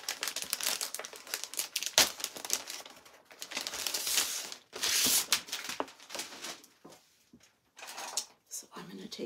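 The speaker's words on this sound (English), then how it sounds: "So I'm going to take my scissors and I'm going to cut these apart." Scissors cut a paper sewing pattern apart, with close crinkling and rustling paper in uneven bursts and snips, and a few pauses between them.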